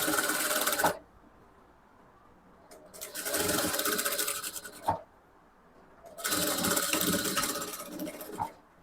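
A sewing machine stitches a halterneck blouse in two long whirring bursts of rapid needle chatter, close and clear, separated by quiet pauses with faint handling clicks.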